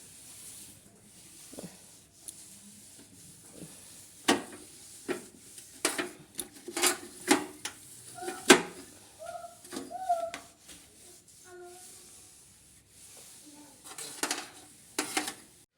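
Scattered clinks and clatters of utensils and metal pieces being handled while a gas stove is cleaned in a home kitchen, sporadic and fairly near, with quiet gaps between the knocks.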